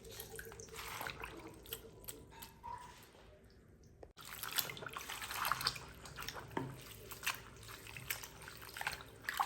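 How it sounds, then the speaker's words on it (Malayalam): Leaves being washed by hand in clean running water, faint trickling and splashing with brief drips, a short lull midway before the water noise returns, quiet and close. "ഒന്നുകൂടി നല്ല വെള്ളത്തിൽ കഴുകി വെള്ളം തെളിഞ്ഞ് കണ്ടെങ്കിലാണ് എനിക്ക് സമാധാനമുള്ളത്"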